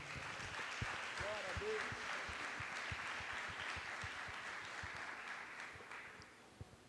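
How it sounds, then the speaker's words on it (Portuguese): A church congregation applauds after a sermon, a soft, distant patter of many hands with scattered louder claps and a brief murmur of voices, fading toward the end. "Vamos aplaudir ao Senhor por esta palavra?"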